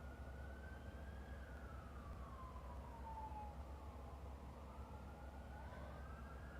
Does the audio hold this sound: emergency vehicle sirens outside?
yes